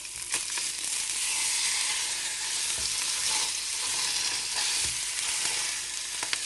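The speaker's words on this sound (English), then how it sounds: "I'm just going to let that fry" Beef cheeks fry in a pan with a loud, continuous close-up sizzle broken by a few scrapes of stirring, and nobody speaks.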